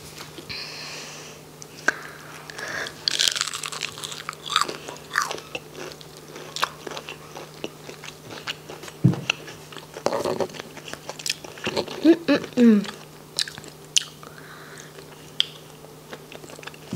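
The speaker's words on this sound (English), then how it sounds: "I'm gonna try these onion rings because they look really crunchy and yummy" Crisp biting crunches of fried onion rings followed by chewing, close up, with scattered sharp crackles and quiet gaps between bites.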